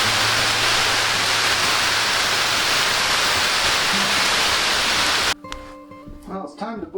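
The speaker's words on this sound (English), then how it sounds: "It's sleeting. Thought it was snowing for a second," Sleet falling outdoors near an off-grid cabin makes a loud, dense, steady hiss that cuts off abruptly, followed by someone speaking close by.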